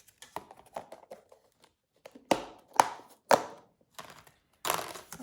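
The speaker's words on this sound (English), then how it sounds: "we're going to pop on the lids so they're all labelled up" Plastic lids pressed onto small seed pots of sweet peas, a few sharp, separate clicks and snaps spaced about half a second apart, with faint soft handling noises between them.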